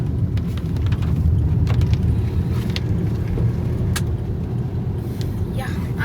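A car drives a misty, foggy road toward Kudremukh, its engine and road noise giving a steady, loud interior rumble throughout, with brief faint clicks and rattles on top.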